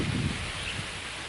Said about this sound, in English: Now that the wind's kicked up, I don't know if this is going to disturb the mic.